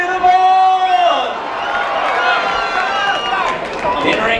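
Spectators cheer and whoop for fighters at an amateur white collar boxing event in Leeds, a loud crowd roar with rising shouts, while an announcer's amplified voice rings over it at the start.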